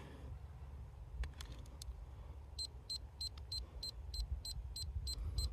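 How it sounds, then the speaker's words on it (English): A handheld moisture meter emits a steady train of about ten short, high electronic beeps at an even rhythm, close and clear over a low rumbling background hum. "right now it's reading at about 21, and you can hear it beeping"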